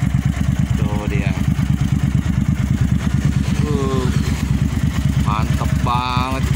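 A Suzuki TL1000S motorcycle's big engine idles loudly and steadily up close, its deep pulsing throb continuous while people chat over it.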